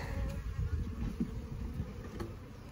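Honey bees from a small swarm buzz around a hive in a close, continuous drone with a faint background hiss.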